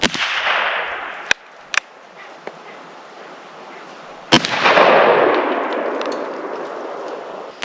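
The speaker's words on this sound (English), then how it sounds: "I'm going to do a little bit of a 10 mil with the Glock 29." Gunshots from firearm testing with a 10mm Glock 29 pistol: sharp cracks at the start and again near four seconds, each trailing into a long rolling outdoor echo, with a few fainter snaps between.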